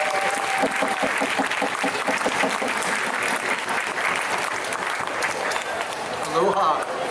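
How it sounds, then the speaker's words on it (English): Crowd clapping at an outdoor teach-in held on Inauguration Day alongside a protest march, steady loud applause throughout with voices and cheers mixed in near the end. "Everyone can please give a clap for Dr. Mark Hickson."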